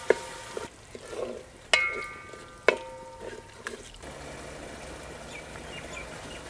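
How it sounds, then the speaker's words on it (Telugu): Tomatoes and coriander powder stirred in a frying pan, with a few sharp clanks of a spoon against the metal over a steady soft sizzle that continues alone afterward. "ఈ టమాటాలన్నీ ఒకసారి బాగా కలుపుకొని ధనియాల పొడి కూడా వేసుకుందాం."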